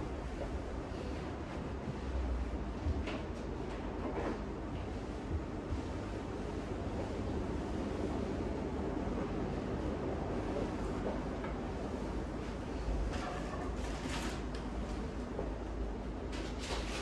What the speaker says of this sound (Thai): ฟังเสียงลมนะคะ